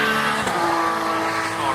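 British Touring Car Championship race cars run on track during qualifying, their engines producing a continuous, loud, close roar that holds steady across the whole stretch.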